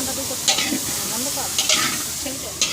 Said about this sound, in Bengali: তো এই দেখুন তরকারি রান্না চলছে।